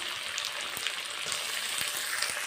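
Chopped tomatoes sizzle and fry in a pan with ginger and garlic, a dense steady crackle with occasional sharp pops and light stirring, close and with no voices.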